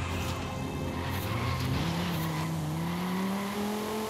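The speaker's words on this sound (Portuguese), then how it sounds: "Aqui tem um drift legal também." A 1999 Dodge Viper GTS ACR drifting in Forza Horizon 5: a steady, loud tire squeal and skid over a rising engine note that climbs in pitch through the slide, with no talking.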